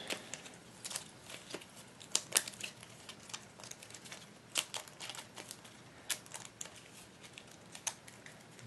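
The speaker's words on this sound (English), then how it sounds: "And let me shuffle the encounters." Encounter cards for the Shadows of Brimstone board game are shuffled close by, giving quiet, rapid papery riffles and clicks in irregular bursts against a hushed room.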